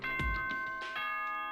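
Multi-tone school announcement chime from the video game Danganronpa: Trigger Happy Havoc, a clear sustained bell-like ding-dong sequence ringing out alone with no talk.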